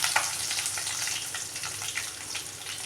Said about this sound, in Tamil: அதுக்கு எண்ணெய் ஊற்றி கடுகு போட்டு பச்சை மிளகாய் 2 போட்டுங்க, பெரிய வெங்காயம் 1 அறுத்து வச்சுருக்குறோங்க